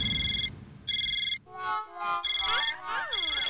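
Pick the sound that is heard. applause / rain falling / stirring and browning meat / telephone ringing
telephone ringing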